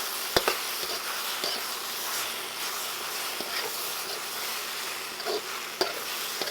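White cooking wine poured into a hot pan of pasta and broccoli sauce, giving a steady bright sizzle with occasional sharp clicks and scrapes from stirring, close and continuous, no talking.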